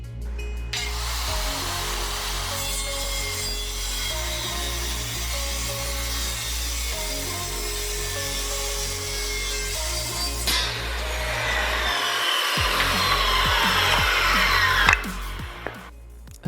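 Wooden pieces for a table frame being cut, a steady loud rasping saw noise running nearly continuously at close range, with a brief break and change in tone toward the end.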